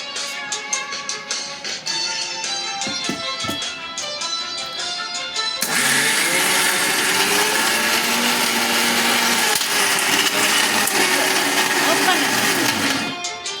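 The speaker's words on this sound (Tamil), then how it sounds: "இது மிக்ஸி போடு." A mixie blender grinds coconut chutney ingredients with garlic, tamarind, curry leaves and salt, starting dry after a few seconds of background music-like sound, then roaring loudly and steadily for the rest of the clip.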